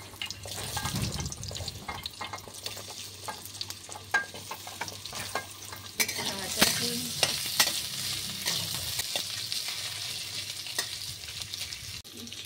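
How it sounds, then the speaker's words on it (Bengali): Potatoes going into hot oil tempered with a dried red chilli, a loud continuous sizzle with frequent scraping stirs of a spoon in the pan, close up and without voices, the sizzle surging about halfway through. "যে সবজিগুলো কেটে রেখেছিলাম, প্রথমে আলুটা দিয়ে দিচ্ছি।"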